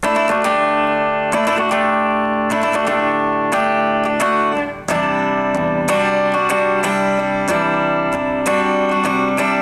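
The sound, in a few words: guitar playing a bridge section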